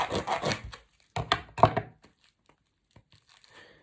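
Parcel packaging being wrestled open, with plastic crinkling and a few sharp tearing bursts that come close and loud, then fall away to near silence with faint rustles.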